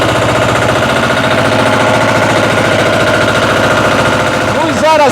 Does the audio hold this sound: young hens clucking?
no